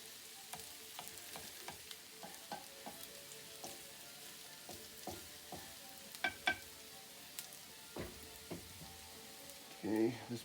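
Shredded potato hash browns fry quietly in an oiled pan, a faint soft sizzle dotted with small pops and occasional utensil taps, with a louder scrape near the end.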